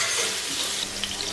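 Finely chopped garlic hits hot oil in a pan for a chana masala tadka, giving a steady, close, loud hiss of frying and sizzling with no voices.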